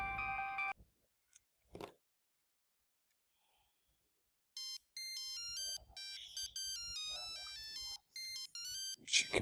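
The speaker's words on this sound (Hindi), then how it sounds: "सकीना आपा का फोन है, अब वो तारीख मांग रही होंगी ना" A phone ringtone plays a bright electronic melody in bursts, starting, falling silent for a few seconds, then resuming in a repeating pattern of tones.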